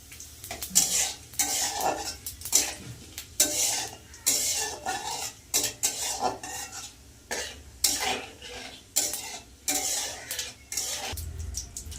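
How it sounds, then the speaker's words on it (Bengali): Dried red chillies, whole cumin and bay leaves crackle in hot oil while a metal spoon scrapes and clinks repeatedly against the pan in an uneven, close stirring rhythm. "এই তেলের মধ্যে দিয়ে দেবো শুকনো লঙ্কা গোটা জিরে আর তেজপাতা"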